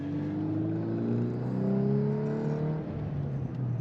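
An eighth-generation Volkswagen Golf R engine hums steadily while driving, with a low droning tone that rises gently in pitch as the car accelerates.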